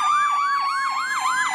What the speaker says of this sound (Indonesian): Ini ada mobil ambulan besar.